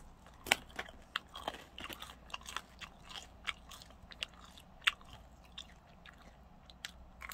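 Crunchy deep-fried food bitten and chewed close to the mic, a steady series of crisp crackling crunches with a few sharper bites standing out, and no talking.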